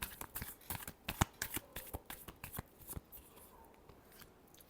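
Tarot cards are shuffled by hand at close range, giving a run of quick, crisp riffling flicks and taps that thin out toward the end.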